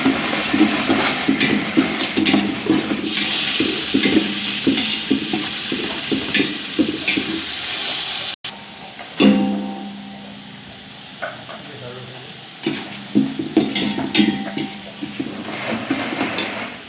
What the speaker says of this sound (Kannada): ಈರುಳ್ಳಿ ಕಡಲೆಬೇಳೆ ಚೆನ್ನಾಗಿ ಬಾಡ್ತಾ ಇದ್ದಾವೆ ಫ್ರೆಂಡ್ಸ್